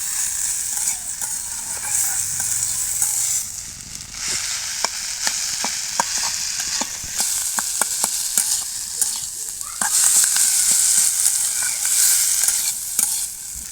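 Sajna drumsticks frying lightly in a pan, a steady close sizzle with scattered clicks of stirring spread through, no voices.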